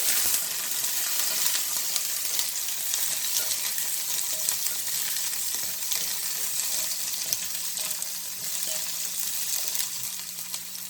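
Chicken pepper fry with coconut sizzling in a pan, a continuous dense crackle and hiss lasting throughout, close and steady with faint stirring scrapes and no voices.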